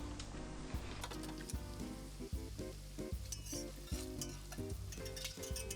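Onions frying in a pan, a steady close sizzle with rhythmic stirring scrapes and light clinks of utensil against the pan.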